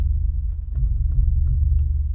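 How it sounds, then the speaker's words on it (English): An orchestral bass drum (gran casa) rumbles low and deep in sustained rolling throbs, close and fairly loud, alone. "So, gran casa, just a big drum, also known as a bass drum,"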